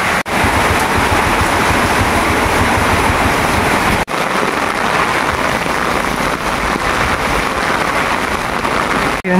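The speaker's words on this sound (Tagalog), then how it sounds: "Sobrang lakas ng ulan." Heavy typhoon rain pours in a dense, continuous hiss that is loud and unbroken for nearly ten seconds, with no voices.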